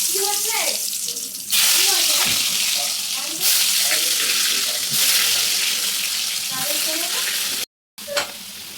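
Potatoes fry for a mutton curry in a village kitchen, a loud close sizzle with bursts of hissing and scraping as they are stirred and lifted, voices speaking over it, then a brief silent cut.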